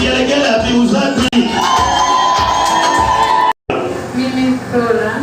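Wedding guests at a church wedding ceremony cheer, whoop and ululate in a loud, dense crowd roar that runs continuously, broken only by one brief dropout near the end.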